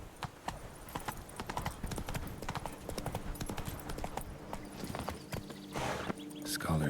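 Roach, a horse in The Witcher video game, trots with brisk, close, rhythmic hoofbeats clip-clopping steadily over ground, with a louder rustle near the end.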